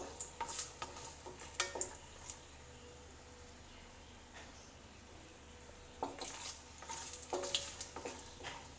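Lentil dumplings (bori) frying in oil in a pan, heard as quiet, steady sizzling broken by sharp bursts of stirring and scraping, with busier clatter near the end.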